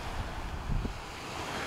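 Sea waves at a Turkish resort beach wash in as a steady low surf wash, with a slightly louder swell near the middle, mixed with light wind on the microphone and no voices.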